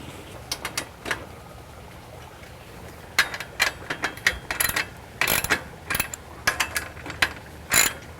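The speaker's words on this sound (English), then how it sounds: "it's a good thing to secure all the bolts using a ratchet" A hand ratchet tightens bolts on a Legacy greenhouse roof frame during assembly: bursts of rapid clicking pawl strokes, close and crisp, starting sparse and then coming in quick repeated runs with short pauses between.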